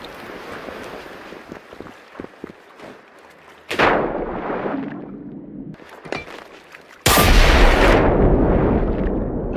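Loud blasts of gunfire with explosive booms in Generation Zero, a co-op shooter played with friends: scattered small pops give way to a sharp, heavy shot that rings out, then a second massive blast that roars on to the end.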